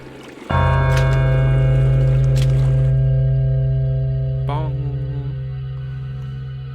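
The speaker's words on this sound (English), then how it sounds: "I know there's a bell." A bell in the video game Pathologic 2 strikes once with a loud, sudden onset, then rings on in a long sustained tone that slowly decays, with a faint secondary clang partway through and no talking.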